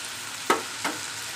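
Tomatoes and greens roast in a pan with a soft, continuous sizzle, broken by two quick stirring scrapes in close succession, fairly quiet and alone without any talking.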